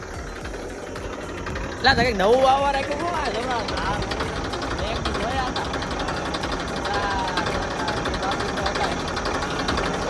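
A farm tractor engine runs steadily nearby, with a louder surge early on before it settles into a droning chug. Someone talks over the engine throughout.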